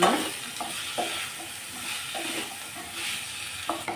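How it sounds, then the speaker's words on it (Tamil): Mixed vegetables with salt sautéing in a pan while a spoon stirs them, a steady close sizzle broken by intermittent scraping strokes, with no voices. "உப்பு சேர்த்துட்டு இப்போ நல்லா வதக்கி எடுத்துக்கலாம்"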